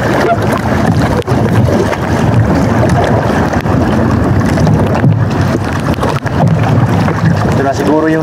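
Strong gusting wind buffets a small boat at sea, a constant loud roar of wind noise across the microphone with water sounds beneath, while a voice speaks faintly at times.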